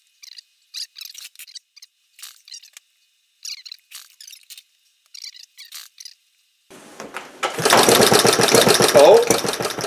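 An Iron Horse engine is spun over with a pull rope. Several short, crisp bursts come in a row, then a loud, close, sustained rattling churn follows for the last few seconds.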